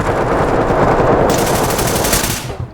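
Sustained automatic gunfire in the tactical shooter Ready or Not, a dense rapid burst of shots close and loud, cutting off abruptly near the end.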